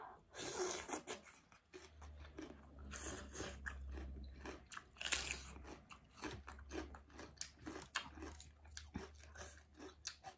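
Someone bites and chews crunchy raw cabbage alongside Thai papaya-style salad with shrimp and beans, giving a steady run of close, wet crunches and munching with no talking.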